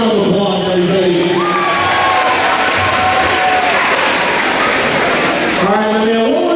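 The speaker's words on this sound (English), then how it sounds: "Let's give him a big round of applause, everybody." A crowd at a high school BMX show cheers and claps loudly for a student, with whoops and shouts rising over a sustained wash of applause and voices.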